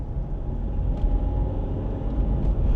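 Land Rover engine running with a deep, steady low rumble like a tractor, loud and continuous throughout, with no talking over it.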